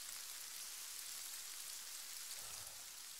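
Steady, even hiss of rain falling throughout a military video game mission, continuous and fairly faint with no voices over it.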